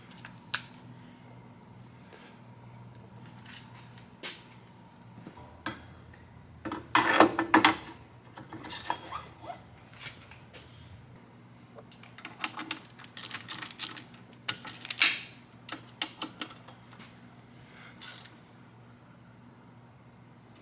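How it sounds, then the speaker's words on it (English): A ratchet tightens pinch bolts while a fat tire bike kit with air suspension is installed. Quiet bursts of quick clicking come in short clusters, separated by soft handling noises and stretches of near silence, with no talking. "tighten those pinch bolts"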